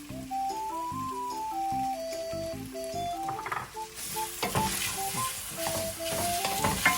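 Shrimp and pepper pasta sizzles in a pan after sesame seeds are tossed in, a steady frying hiss under soft background music, rising louder and busier with stirring clatter in the second half.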